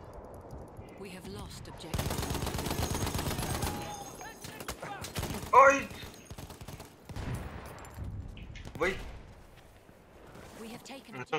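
Gunfire in Battlefield 1 multiplayer conquest, with a sustained burst of rapid automatic shots followed by scattered single cracks and short volleys, loud and close, with someone talking over parts of it.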